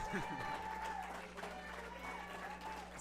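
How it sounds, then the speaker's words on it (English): Applause at a powerlifting meet, a faint steady crowd clapping heard under an announcer's continuous talk, with an electrical hum running throughout. "one more round of applause"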